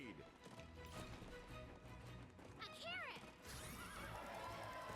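A horse whinnies loudly amid clopping hooves and other game sounds in the video game Puppeteer, with a voice talking underneath.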